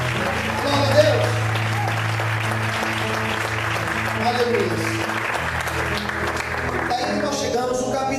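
A church congregation applauds in praise during a sermon, steady sustained clapping from a crowd filling the room, with a preacher's voice and an exclamation of praise over it.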